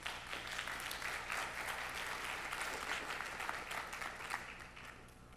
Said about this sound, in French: Quelques applaudissements, s'il vous plaît.